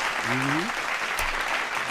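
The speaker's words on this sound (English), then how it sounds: "Round of applause." Audience applause at a battle rap business talk, a dense wash of clapping throughout with a brief voice and low tone mixed in.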